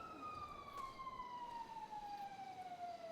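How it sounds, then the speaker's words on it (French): A police siren from a GTA roleplay game plays in one long steady tone that slowly falls in pitch, moderately far off over a constant low rumble. "je vois les sirènes"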